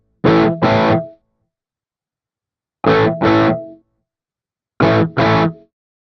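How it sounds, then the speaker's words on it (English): Electric guitar played through the Neural DSP Archetype Plini compressor, three loud, evenly spaced pairs of distorted chord stabs, each pair ringing briefly before cutting to silence. "I'm going to take this reverb off, move back over here, and I'm going to put the compressor on"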